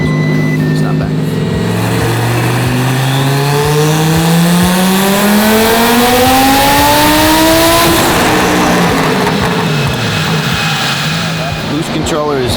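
A 1,400 hp twin-turbo Audi R8 engine screams up through the revs on a dyno run, a loud sustained rising wail that peaks and then drops off, with voices faintly underneath.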